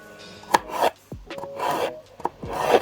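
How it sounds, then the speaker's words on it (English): A knife chops sliced strawberry discs on a cutting board in a series of close, crisp thuds and scraping cuts, roughly one every half second, with no talk. "we're going to put that to a side and chop the strawberry discs"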